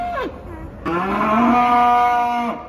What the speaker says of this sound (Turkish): Burada yerli bir buzağı var.